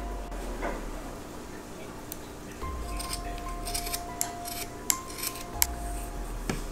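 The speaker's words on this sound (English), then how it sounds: "I'm going to take my creepy cloth and I'm going to cut a strip" Scissors snip a strip of creepy cloth for a Halloween nightlight craft, a few faint close crisp cuts and ticks scattered over a quiet room hum.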